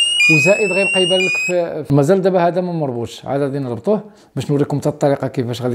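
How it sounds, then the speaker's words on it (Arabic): A smart door-sensor anti-theft alarm gives a brief, high electronic beeping tone at the start, then continuous talking in Moroccan Arabic dominates the rest. "اي باب تحل ولا اي شرجم تحل راه غادي يخدم هذا الانذار اللي هنايا"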